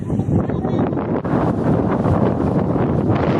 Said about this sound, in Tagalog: malakas ang hangin. So windy.